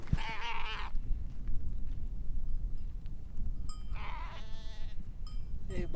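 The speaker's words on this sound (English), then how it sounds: "Let me show you the cutest sheep you ever saw in your life." Sheep bleat twice on a Swiss alpine hike between Zermatt and the Mettelhorn, one wavering call at the start and another a few seconds later, fairly close, over steady wind and outdoor background noise.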